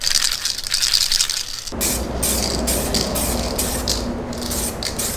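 Spray paint hisses steadily as very light coats of black go onto a Mustang GT, with a few short pauses between passes, close and fairly loud after a brief stretch of rattling at the start.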